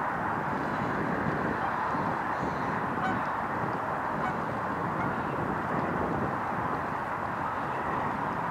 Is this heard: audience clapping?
no